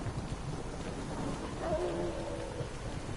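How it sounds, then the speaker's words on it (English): A thunderstorm in The Witcher 3 video game rumbles with steady rain and a low, continuous roll of thunder, with no speech. "The storm, damn it."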